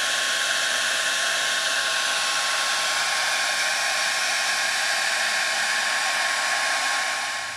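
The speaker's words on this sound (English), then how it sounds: "take your hair dryer and rub your wax in there, and then you can melt the wax in" A hair dryer blows steadily at close range while wax is melted into bowstrings, a loud continuous whirring hiss that holds level for the whole stretch and tapers slightly at the very end.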